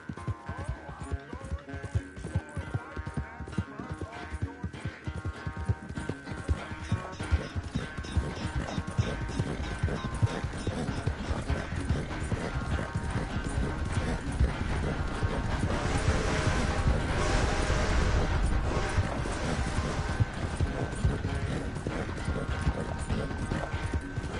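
Horse hooves clip-clop in a continuous rhythmic patter in Red Dead Redemption 2, under a dense layer of game music and ambient effects, with occasional clanks.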